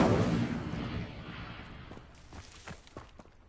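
A fire spell cast in a Harry Potter video game sets off a loud rumbling, explosive burst that slowly fades and is followed by a few scattered crackling impacts.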